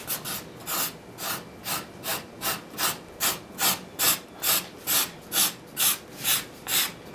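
A hand scraper works over the carved-out wooden seat of a handmade chair, making rhythmic rasping strokes of about two per second that repeat steadily and close by.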